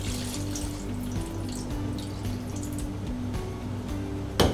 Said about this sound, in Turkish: Tepsimize yarıya kadar bir su ekliyoruz.